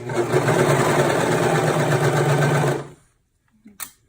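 A sewing machine stitches around a three-dimensional fabric car trash bag, running in one steady, close whirring burst for almost three seconds before stopping, followed by a couple of small handling clicks.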